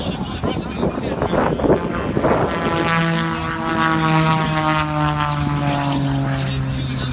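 A propeller aerobatic plane performing at the 2017 Dayton Air Show during an inverted recovery, its engine a loud, sustained buzzing drone that rises in pitch, while a commentator talks over it.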